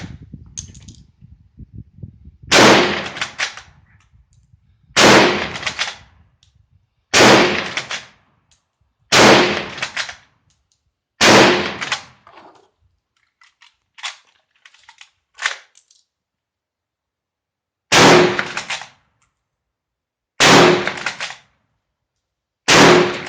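A Swedish M96 Mauser rifle in 6.5x55mm fires about nine sharp, loud shots in a rapid string at roughly two-second intervals, each cracking sharply then ringing briefly, with fainter clicks of bolt cycling between some shots.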